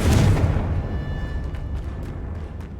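A Confringo blasting spell detonates in Hogwarts Legacy with a loud, close boom at the start, then a long rumbling decay and scattered crackling debris, with no voices.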